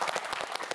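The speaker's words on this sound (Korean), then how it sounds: "친구들이 또 바로 응원의 박수를 보내주고 있네요." Friends in a quiz show studio break into brief, brisk applause, a quick burst of close, dense clapping from a small group.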